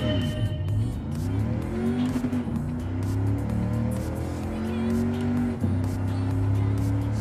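Race car in Gran Turismo 7 at full throttle, its engine rising through gears in repeated climbing revs with brief dips at shifts, loud and continuous, with someone talking over it.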